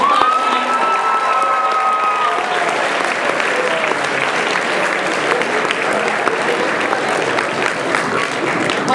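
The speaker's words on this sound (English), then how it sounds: "let's give a big round of applause" An audience at a statesmen-themed state day event bursts into loud, sustained applause with some cheering, the clapping dense and continuous throughout, with faint voices mixed in.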